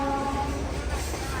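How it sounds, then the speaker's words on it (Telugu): A goods train overtaking a stationary MEMU passenger train on the next track, a steady loud rumble of rolling wagons heard from on board, with a faint tonal hum. "మా ట్రైన్లో గూడ్స్ ట్రైన్ ఓవర్టేక్ చేసింది."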